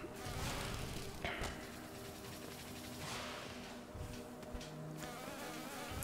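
Bees buzz inside a hive in the Hollow Knight video game, a faint, continuous droning hum with soft whooshes and a few light thuds.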